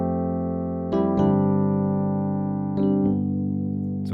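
Piano playing a single B in the right hand for the intro of a song, struck a few times in pairs over a rich sustained tone that rings steadily between strikes.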